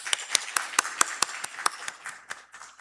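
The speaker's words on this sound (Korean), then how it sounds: "잠깐 위로의 박수 하겠습니다." A church congregation claps briefly in comfort during a Korean Sunday service, a quiet run of about a dozen crisp, evenly spaced claps in a steady rhythm that thins out toward the end.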